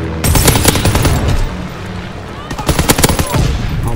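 Dense automatic gunfire and rapid bursts from a World War II shooter video game, Call of Duty: World War II, loud and close, continuing in heavy volleys with brief lulls.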